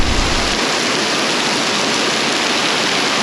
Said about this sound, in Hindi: अब बहुत तेज़ बारिश आ रखी है